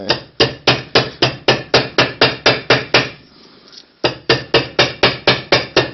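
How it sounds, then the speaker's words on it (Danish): A hammer pounds on a heksehyl firework in a fast, even run of loud, sharp blows. After about a dozen strikes there is a short pause, then the steady pounding starts again, close and clear, with no voices. "Bruger lige en hammer."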